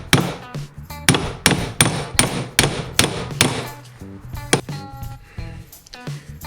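A hammer strikes the end of a Miata half shaft during CV joint disassembly about a dozen times in a steady rhythm, each blow sharp and ringing, with a few lighter metallic clinks near the end.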